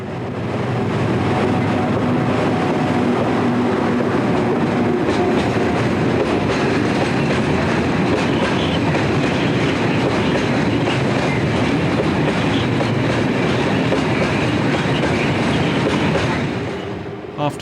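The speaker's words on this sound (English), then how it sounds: "number 12124 approaches the station at Paigny-sur-Meuse, with a stone train from the quarry at Saint-Germain-sur-Meuse" An SNCF BB12000 electric locomotive hauls a loaded stone train from a quarry into a rural station, a loud steady rumble of wagons with rhythmic wheel clatter, metallic squeals and faint talk, fading near the end.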